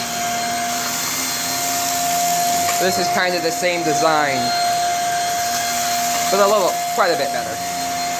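A Shark Rocket powerhead cordless vacuum cleaner runs with a steady, loud motor whine and hum throughout, while someone talks over it.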